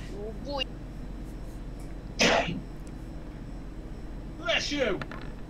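Two sharp sneezes, the first short and the second louder, a few seconds apart, over a low steady background hum during a tabletop game session.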